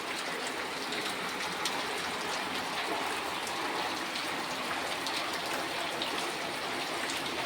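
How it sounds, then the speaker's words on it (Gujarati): Heavy rain pours steadily outdoors during a monsoon downpour in Gujarat, a dense, even hiss of drops on surfaces and water with no pauses, fairly distant and uniform throughout, no voices. "જો આજે પણ વરસાદ આવ્યો છે."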